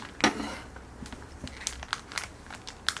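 Plastic packaging of a first aid kit being cut open, giving a sharp crinkle at the start and then a run of small crackles and snips at close range, with no talk over it.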